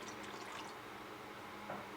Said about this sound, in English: So I'm going to start adding the water in